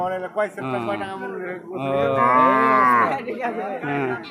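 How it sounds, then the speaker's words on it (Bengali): Cattle at a crowded cattle market near the India–Bangladesh border, a loud, close, drawn-out moo rising and falling over several seconds, with shorter calls and faint crowd sounds around it. "দেখেন অনেক বড় গরু"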